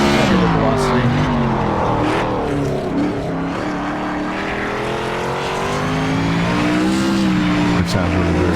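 Race car engine in the iRacing sim on a Kern County dirt track, heard with reversed camera velocity: a loud, continuous droning whine whose pitch bends and wavers oddly for the whole stretch, with faint tire noise.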